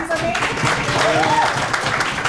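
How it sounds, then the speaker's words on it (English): Audience applause at an academic presentation session, steady dense clapping filling the whole stretch at a fairly loud, even level with faint voices mixed in. "But can I clap for him because"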